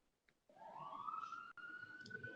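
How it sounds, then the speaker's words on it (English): Faint police siren wailing in the background, rising and holding a steady tone, distant and quiet with no talk over it. "There go the siren in the background that's like announcing."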